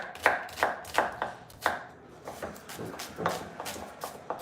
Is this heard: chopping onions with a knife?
yes